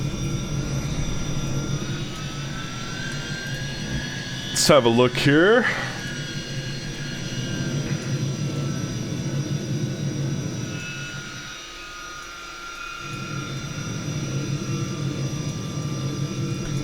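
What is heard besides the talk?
Tupolev 154 jet engines landing in X-Plane 11 video game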